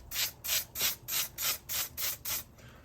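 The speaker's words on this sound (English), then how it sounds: "I got some spray adhesive. So I'm just gonna get some spray adhesive and then just get some of that stuck down on the backside." Spray adhesive hisses from an aerosol can onto the back of a plastic seat piece in eight short, evenly spaced bursts, close and clear with no talking.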